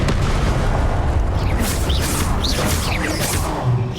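A fiery Confringo spell blast in Hogwarts Legacy on Nintendo Switch booms loudly amid a dense, continuous roar of game combat, with whooshing streaks layered over the rumble throughout.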